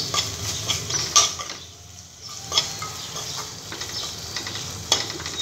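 Ginger paste fries quietly in a pan for paneer fried rice, a soft sizzle under light scraping and clinks of a spoon stirring against the metal, with a short lull midway.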